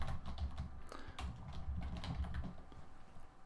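Rapid, uneven clatter of fingers typing on a computer keyboard, close and steady for a few seconds with no voices.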